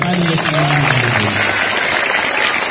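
Loud, dense applause from a crowd of students at a motivational class in a school hall, sustained and even, with a voice speaking over the start of it.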